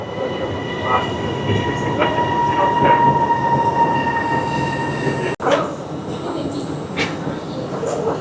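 A train rolls in with a rumbling clatter and high metallic wheel squeals that come and go, loud and close throughout.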